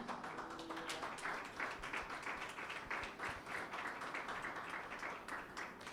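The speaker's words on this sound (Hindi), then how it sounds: "यीशु के लिए फिर से तालियां बजाएं।" Church congregation at a Pentecost Sunday service clapping for Jesus, a steady, moderately distant patter of many hands with a slightly uneven rhythm and no voices over it.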